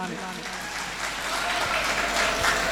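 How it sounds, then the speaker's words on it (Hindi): Applause from an audience at a Bundelkhand talent honour ceremony in Sagar-Bina, a steady broadband patter that swells slightly louder toward the end, with voices mixed in. "तो जरा ताली बजा लो अपने अपने लाने"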